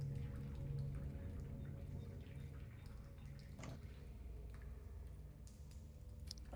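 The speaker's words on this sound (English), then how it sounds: "you see this large drain that all the water is starting to pour out of, and you hear the source of all that rushing water noise" Rushing water pours steadily out of a large drain, a loud, continuous wash of sound that holds for the whole stretch with no pauses.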